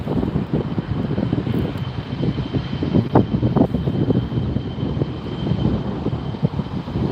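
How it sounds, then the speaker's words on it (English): An airliner approaching to land at LAX, a steady roaring engine drone rising slightly in the middle, heard from outdoors with wind buffeting the microphone and no one speaking. "I know there's a plane here somewhere."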